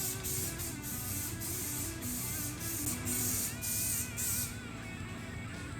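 Spray gun or aerosol painting of a 2001 GMC 2500 truck bumper from a distance, a steady hissing spray with short rhythmic pulses, fairly faint, ending in a quieter tail.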